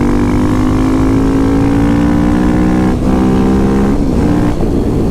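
A big single-cylinder motorcycle engine accelerating hard, loud and close, its thumping note climbing steadily in pitch with brief dips at each gear change.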